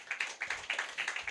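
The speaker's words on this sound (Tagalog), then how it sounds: "Palakpak naman po sa Panginoon." Church congregation clapping for the Lord at a sermon, a quick steady run of crisp claps, moderately near, with no talk over it.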